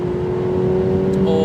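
A Ferrari 488 Pista's turbocharged engine pulls hard under acceleration on an open de-restricted straight, a loud steady drone with a strong sustained tone rising slightly toward the end.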